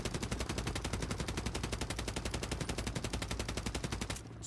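Rapid automatic gunfire in a first-person shooter video game, a steady burst of evenly spaced shots lasting about four seconds, loud and close, ending abruptly.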